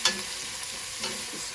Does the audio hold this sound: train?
no